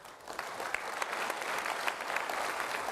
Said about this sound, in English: I want you to give yourself a round of applause for being leaders.